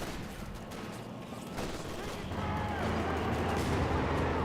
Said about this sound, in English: Good mortar hit there on the Pathfinders.